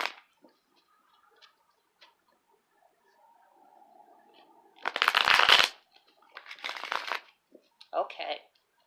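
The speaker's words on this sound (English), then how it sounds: "So I'm just going to shuffle a couple times," A deck of tarot cards being shuffled in a few loud riffling bursts after quieter handling, with short gaps between each shuffle and faint talk at the start.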